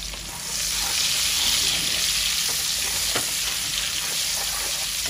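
Egg, onion and garlic fry in a pan with a steady, close hiss and sizzle, broken now and then by faint stirring scrapes.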